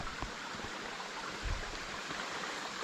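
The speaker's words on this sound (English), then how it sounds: "we're down at the stream, down at Kelly's Run" Steady broadband rush of a modest stream flowing at Kelly's Run, a continuous even wash of water with no voices, close and moderately loud throughout.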